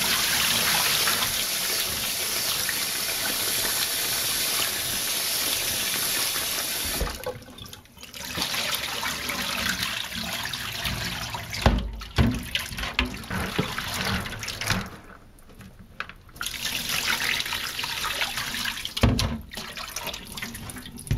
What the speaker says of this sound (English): We're gonna wash this corn off.